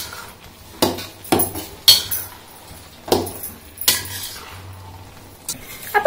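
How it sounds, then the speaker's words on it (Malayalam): A spoon stirs taro leaf curry in a metal pot, striking and scraping it in a series of distinct clanks. The sharp, close knocks have short quiet gaps between them. "ഇപ്പോൾ നമുക്ക് ഒന്ന് മിക്സ് ചെയ്യാം"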